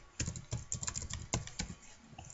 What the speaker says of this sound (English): you can type your username